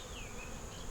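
Honey bees buzzing inside a hive where nectar is being stored, a steady dense hum that holds without a break the whole time, close and constant with no talking.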